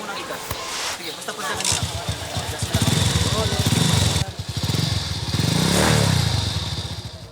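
A secondhand motorcycle engine being test-run at a warehouse sale in the Philippines sputters and revs nearby, rising and falling in bursts with clattering mechanical noise, and voices talk over it.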